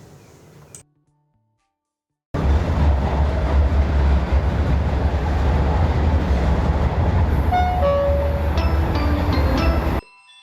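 A metro train on the red Line 3 rumbles loudly and steadily after a brief silence, with squealing wheel tones rising near the end before it cuts off.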